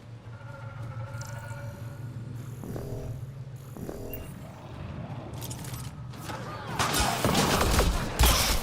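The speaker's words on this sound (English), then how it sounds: "Ooh, I hear lots of gunfire." Gunfire in the video game Mass Effect Andromeda during a raider fight, with a burst of loud, crackling shots rising near the end over a steady low hum of game ambience.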